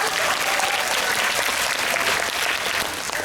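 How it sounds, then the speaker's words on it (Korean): An audience at a film talk event applauds, a dense, even burst of clapping from many hands that stays loud and steady throughout. "박수 한번 부탁드립니다"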